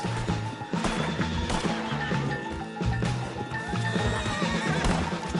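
Horse in a video game neighs and whinnies loudly with clip-clopping hooves, layered over game music and effects, continuous and close throughout.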